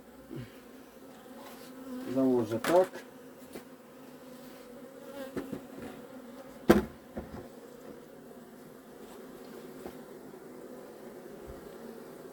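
Honeybees at a hive hum steadily in a low drone, with a few sharp clicks and knocks and a brief murmured word over the buzzing.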